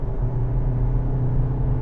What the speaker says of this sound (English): and the diesel engine sounds